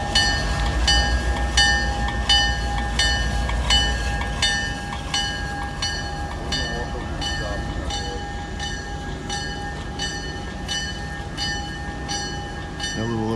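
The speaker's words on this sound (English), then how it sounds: "Now he's going to go up and hook on the other end of the train we were just on and take us back to the station" A locomotive at the Tennessee Valley Railroad Museum couples onto a heritage passenger train and pulls it, with a steady rumble, a crossing-style bell ringing rhythmically throughout and a sustained tone overhead, fairly close.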